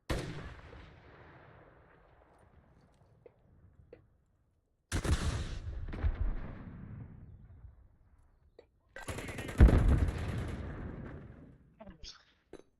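Three loud gunshot bursts from a first-person shooter game, each with a long echoing decay into near silence and a faint click near the end.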